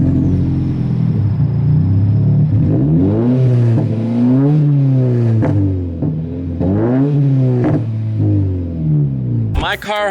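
A Subaru BRZ with a full muffler-delete exhaust revs up close, loud and raspy, climbing and falling repeatedly through several rev sweeps, with a harsh burst right at the end.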